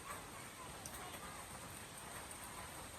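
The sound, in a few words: rain falling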